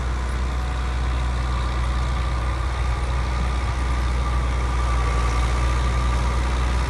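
A 1988 tractor straining as it plows hard, dry field ground, giving a steady, deep diesel engine drone that runs unbroken and fairly loud throughout, with no voices over it.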